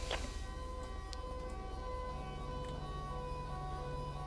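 Ambulance siren in the video game GTA 5, a continuous wailing tone sounding steadily over engine and road noise, no talk heard.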